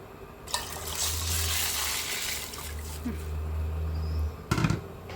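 Water is poured into a cooking pot while dried beans are prepared in a home kitchen, a close, steady splashing gush in two long pours, with someone talking nearby.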